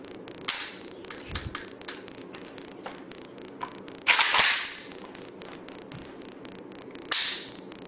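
A WASR-10 rifle being dry fired, unloaded: several sharp, isolated metallic clicks and snaps, close and fairly loud, with quiet handling noise between them and no talk.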